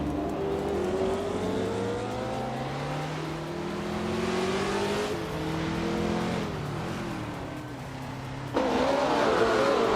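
Race car engines drone and whine steadily in a racing game, with one a 1973 Arc M F16, their pitch sliding up and down through gear changes as several cars run close together and a louder engine surges in near the end.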